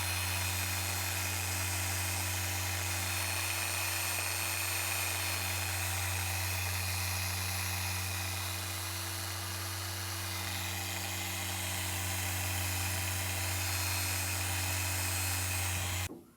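A power polisher works a boat's heavily oxidized gel coat, giving a continuous loud whining hum with a steady tone that runs without a break from start to finish.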